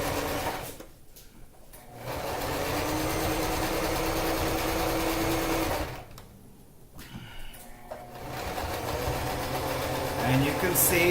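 A sewing machine stitching a handle strap runs in two long, steady, close whirring stretches, separated by a brief pause when the motor stops.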